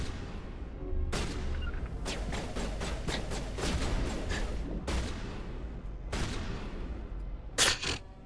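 Shotgun fire in the video game Mass Effect, with repeated sharp blasts in uneven bursts over a steady rumbling battle backdrop and a tight cluster of shots near the end.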